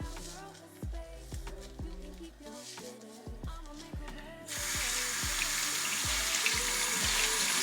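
Makeup sponge rinsed under a running tap: rhythmic squeezing plops and clicks at first, then a steady bright rush of faucet water fills the rest, close and fairly loud.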